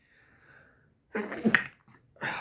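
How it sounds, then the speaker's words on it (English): A single close, sharp human sneeze following a soft intake of breath, then a brief pause and a short breathy exhale afterward. "Sorry, I sneezed."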